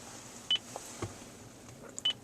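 A 2014 Lexus GX460 lock feedback tone sounds as short electronic beeps, one near the start and another pair toward the end, faint against a quiet interior background.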